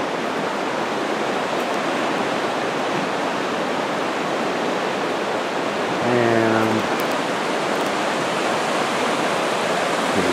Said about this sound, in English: there's a river right next to it.